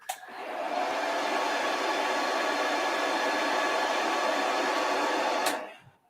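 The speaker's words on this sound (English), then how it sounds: "Need to be careful with the hairdryer there, look." A hair dryer blows at a steady, loud whoosh for about five seconds, starting and stopping with a click and fading out at the end.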